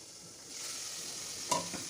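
Onions and spices frying in oil in a pan on a home stove as a base for dal: a steady, fairly loud sizzle throughout, broken near the end by one sharp clank of a utensil against the pan.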